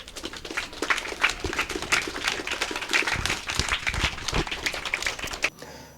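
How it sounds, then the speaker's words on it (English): A round of applause for Leon, a deserving athlete honoured on a sports news program, a dense crowd clapping steadily and fairly close for about five seconds before cutting off abruptly, with no talking over it. "I want you to give him another round of applause."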